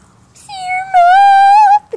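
A cat gives a clear, drawn-out meow lasting about a second and a half, close and loud, with a short softer sound just after it, recorded outdoors.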